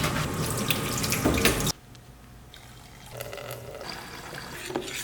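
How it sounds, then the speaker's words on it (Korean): A copper printing plate is rinsed under a running tap. The water gushes loudly, cuts off abruptly, then resumes as a softer, steadier flow with faint splashing. "물로 세척 후 세제로 남은 기름기를 제거합니다."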